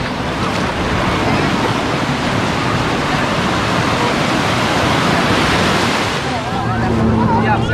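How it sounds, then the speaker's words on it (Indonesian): Strong ocean surf at a beach at Anyer, a dense continuous roar of crashing waves with wind buffeting the microphone, loud and close throughout. "Ombaknya lagi kenceng nih, guys."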